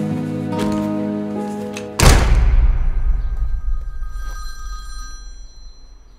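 A telephone bell rings loudly in an indoor scene, followed by a heavy thunk as the handset is picked up, leaving a fading resonant ring.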